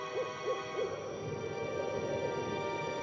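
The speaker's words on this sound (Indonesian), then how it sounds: "Suara burung hantu mulai terdengar jarang-jarang" Owl hoots sound three times in a slow, evenly spaced series early on, mid-distance, over a steady night ambience bed in a horror audio drama.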